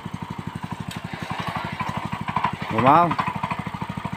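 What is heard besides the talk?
power tiller engine running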